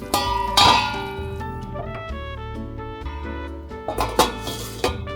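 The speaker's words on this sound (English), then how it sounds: "So I'm just gonna pop the lid back on, wait for it to boil, then we turn the heat off." A metal lid is set back on a cooking pot at the stove, giving a sharp ringing clank with a lingering metallic tone, followed by softer rattles and a couple more clinks as it settles.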